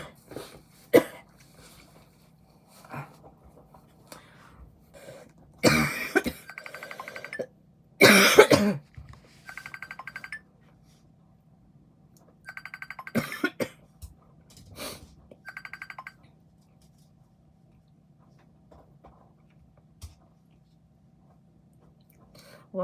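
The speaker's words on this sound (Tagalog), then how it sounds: "May ubo pa tayo guys." Several bursts of coughing from a person with Covid, some harsh and clustered, separated by quiet gaps, with a few faint voices and small noises in between.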